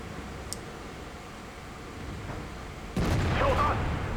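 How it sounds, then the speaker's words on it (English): A tank cannon shot fired in a tank video game, a sudden loud boom cutting in near the end over a low steady hum, followed by a short rumbling tail. "Poorly aimed shot on my part."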